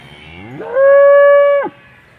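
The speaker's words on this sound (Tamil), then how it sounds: "ஸோ இதுவும் வீட்டு வளர்ப்பு மாடு தான்" A home-raised dairy cow with a calf, near Cuddalore, lets out one loud, close moo that rises into a sustained, steady tone for about a second before dropping off.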